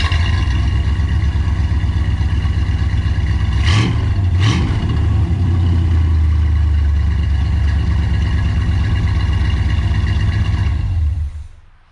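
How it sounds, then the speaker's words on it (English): A 1969 Corvette engine idles with a steady low rumble, then revs up sharply twice before settling back to a loud, continuous idle that cuts off near the end. "Yeah, that car sounds pretty good"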